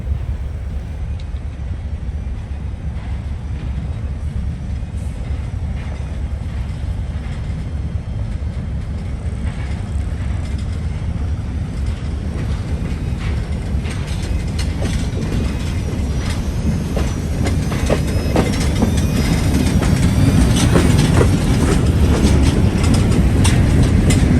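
A heavy Wheeling and Lake Erie freight train rumbles past steadily in Kent, Ohio, low and continuous, growing louder toward the end with some metallic clanks and squeals over the roar.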